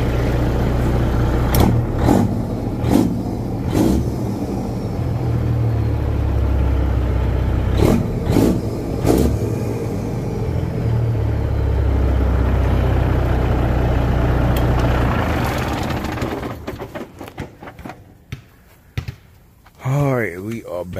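A truck engine idles with a steady low rumble, broken by several sharp knocks and clanks, then the engine noise drops away near the end amid scattered clatter and rustling.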